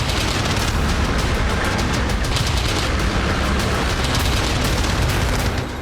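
Gunfire from the Russian Kuryer combat robot sounds as a dense, continuous roar of rapid shots and booms that stays loud and unbroken for nearly six seconds, with no voices over it.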